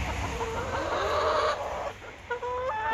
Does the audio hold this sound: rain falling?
no